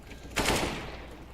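A gunshot rings out in the video game CSGO during aim training, one sharp loud report followed by a short fading tail.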